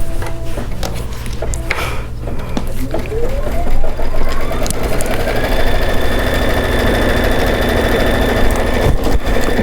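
An embroidery machine runs a satin stitch during a Kimberbell Club project, giving a steady, loud mechanical whir and rapid needle chatter that continues through the whole stretch, with a rising motor tone partway in.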